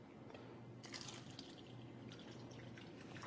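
Tap water runs and trickles into a glass in a steady, fairly quiet pour at close range, with a low hum underneath and no talking.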